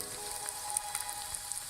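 Chicken pieces frying uncovered in an open pan, giving off a soft, steady crackling sizzle with fine popping specks, faint and close, continuous for a couple of seconds with no voices.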